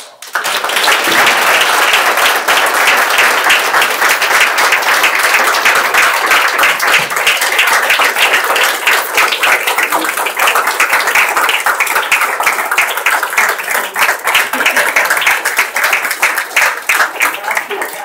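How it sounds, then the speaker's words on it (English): Sustained audience applause at a keynote event, dense steady clapping from a crowd filling the room at full volume for about eighteen seconds, with a few voices mixed in. "I'd like to ask folks to join me in a well-deserved round of applause"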